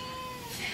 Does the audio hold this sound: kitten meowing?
yes